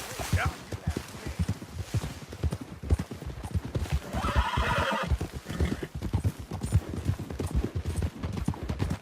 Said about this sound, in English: Captain Monroe, mount up now.